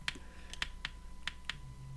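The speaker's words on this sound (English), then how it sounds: "You hear my keyboard typing?" Crisp, sparse keystrokes on a computer keyboard, six or so separate clicks at an uneven pace over a quiet background hum, close to the microphone, no talk.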